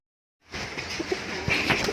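High flyer pigeons coo in soft, close bursts over a steady rustling background, with brief murmured calls rising after a short silence at the start.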